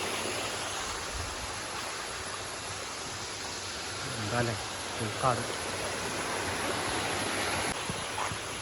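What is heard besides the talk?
water flowing at Olichi waterfalls stream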